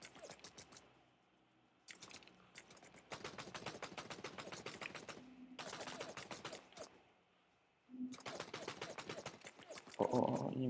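Gunfire in the shooter video game Code of War comes in long rapid automatic bursts separated by short pauses, loud and close, with a heavier blast at the end.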